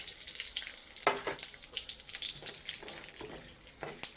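Bay leaves and panch phoron spices sizzle in hot oil in a pan, a close, steady crackling hiss with scattered sharper pops and occasional stirring scrapes.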